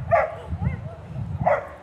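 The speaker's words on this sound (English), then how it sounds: "That's his dog." An excited dog barks and yips twice in quick succession at an outdoor memorial ceremony, close and fairly loud against a low background murmur.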